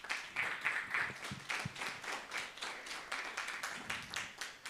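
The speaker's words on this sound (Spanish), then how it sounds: "Los vamos a recibir, por favor, con fuertes aplausos." A church congregation at a special Quechua worship service claps in a steady, dense round of applause, a broad crowd of hands sounding moderately close with no talking over it.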